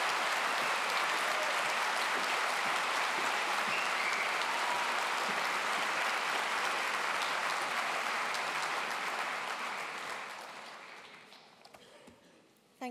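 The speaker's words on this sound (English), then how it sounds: "give yourselves another round of applause" Sustained applause from a large crowd at a university graduation ceremony, dense and steady for about ten seconds before tapering off into a few scattered claps.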